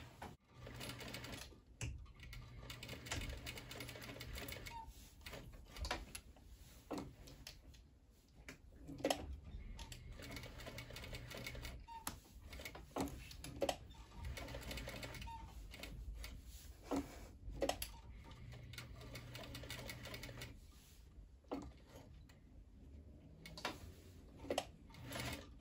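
Embroidery machine stitching a puff embroidery design, a steady rapid mechanical chatter running continuously at moderate level with small bumps and no talk.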